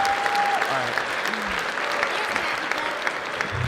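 A convention panel audience at a pony fan event claps for the guests, producing a sustained, even burst of crowd applause with a few faint voices and whoops mixed in.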